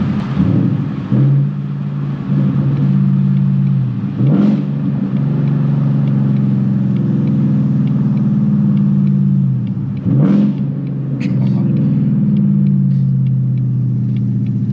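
A 2019 Ford Mustang GT V8 engine rumbles loudly and steadily while driving, with several sharp revving surges rising above the deep exhaust drone.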